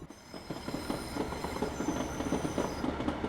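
A passenger train runs on the Wherry Lines near Norwich, a steady rumbling roar with rhythmic clickety-clack of wheels over rail joints and faint squealing, heard continuously and fairly loud from on board.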